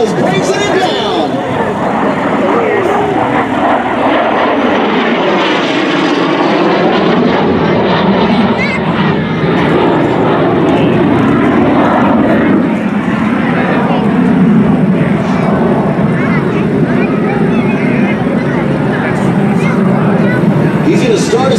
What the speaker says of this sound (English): Watch as he pulls the L-39 up over the top.